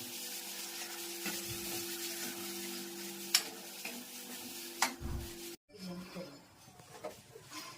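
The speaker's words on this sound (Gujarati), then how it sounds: "સેવ ટમેટા શાક વઘાર." Steady sizzling of tempering spices in hot oil for sev tameta shaak, with occasional sharp clinks of a utensil, cutting off briefly before a quieter, crackling stretch resumes.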